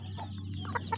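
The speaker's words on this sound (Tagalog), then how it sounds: "Naligo sa lupa tong manok na kakatay natin." A chicken about to be butchered, dusty from a dirt bath, gives a couple of short, soft clucks in quick succession over a low steady hum.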